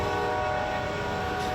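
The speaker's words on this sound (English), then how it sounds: "Federal regulations require trains to blare their horns every 15 to 20 seconds, 24 hours a day, when approaching certain crossings like this one in downtown Ringgold." A train horn blares at a downtown railroad crossing in Ringgold, a loud, steady sustained tone with rich harmonics and rumbling rail noise beneath, held without break.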